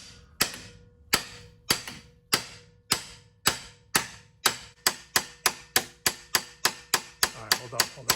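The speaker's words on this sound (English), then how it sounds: "So now you're going to grab a hammer, Robert." A hammer banging on a Subaru Outback ball joint to knock it loose from the control arm, about eighteen sharp metallic blows, spaced at first and then speeding into a steady, rapid rhythm, close and loud with no talk.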